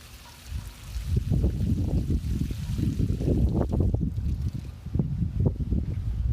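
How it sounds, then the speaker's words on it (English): Water poured from a container into a planting hole dug for a Mars grape vine splashes and gurgles steadily for several seconds, close and fairly loud, with soft outdoor wind noise. "And I'll pour, and pour."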